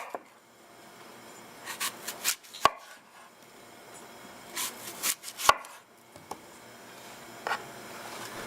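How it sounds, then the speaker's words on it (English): A knife cuts an apple into four sides around the core, giving a few sparse, quiet slicing strokes and sharp board knocks spread across a hushed background, close by with no talk. "My way of dicing up apple is to cut in 4 sides around the core."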